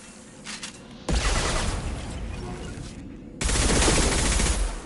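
Dense video-game gunfire from Mass Effect 2, sustained bursts of rapid shots that surge louder partway through and keep rattling without pause, with no voices over them.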